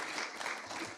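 Lecture audience applauding a speaker, a dense steady patter of many hands at moderate level, filling the whole moment without a break.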